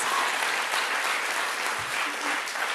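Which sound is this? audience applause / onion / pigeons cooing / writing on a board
audience applause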